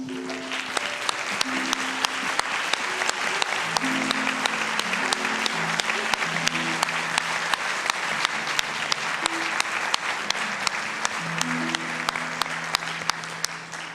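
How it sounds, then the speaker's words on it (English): Audience at a small-town pageant applauds at length, a sustained wash of clapping from a large crowd with faint voices and background tones running beneath it, plus sharp regular ticks throughout. "Parents, won't you please stand as we applaud you for a job well done."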